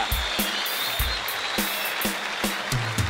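A TV studio audience on The Susos Show applauds a music group, a steady wash of clapping with regular low thumps beating beneath it.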